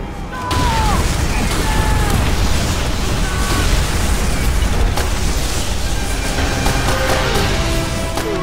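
Explosive charges detonate in the World War II shooter Call of Duty: World at War, a loud, sustained battle rumble with booms and bursts running continuously from start to finish.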